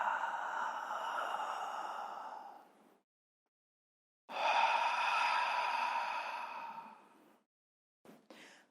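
Ujjayi pranayama breathing with a constricted throat, done in a yoga class: two long, hissing, ocean-like breaths each lasting about three seconds, separated by silence, then a short, broken catch of breath at the end.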